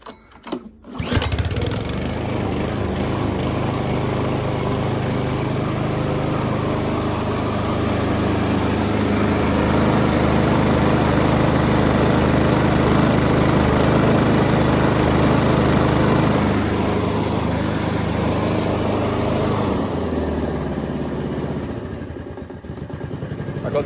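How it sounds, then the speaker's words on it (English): A small gasoline lawn mower engine roars steadily at wide-open throttle after a quick start, loud and close, with a slight surge before settling and easing lower near the end. "when I go from nothing to full wide open throttle, for about 3 or 4 seconds, it does surge slightly, and then it smooths out"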